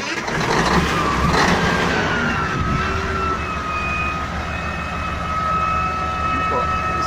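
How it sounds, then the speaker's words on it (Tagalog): A replacement car engine runs steadily after starting, a loud continuous mechanical drone with a faint whine, close by, with people talking over it. "Yan, i-start na po yung makina."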